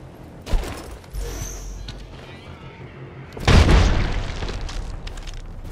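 Incoming gunfire and explosions in Apex Legends: a thud and scattered shots, then a loud close blast with sustained rumbling and crackle afterward.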